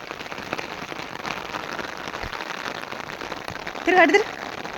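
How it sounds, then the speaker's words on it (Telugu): Heavy monsoon-style rain pours down in a dense, continuous roar on nearby surfaces, with a brief louder patter near the end. "వర్షం అయితే ఫుల్గా స్టార్ట్ అయిందండి మామూలు వర్షం కాదు"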